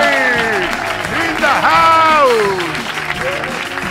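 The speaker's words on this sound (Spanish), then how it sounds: "un aplauso para Ignatius y Keke. ¡Un aplauso!" Studio audience applause for the hosts of a radio comedy show, loud clapping running under excited shouting and cheering voices that call out over it.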